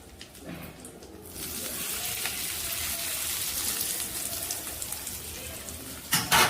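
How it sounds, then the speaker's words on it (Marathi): Hot oil tempering with curry leaves poured onto mango chutney bursts into a loud sizzle after a quiet start, hissing steadily for several seconds before a brief clatter. "ही अशी गरम फोडणी आपण चटणीवर टाकूयात।"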